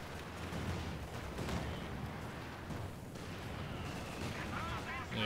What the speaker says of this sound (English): Oh, looks like he hit a mine.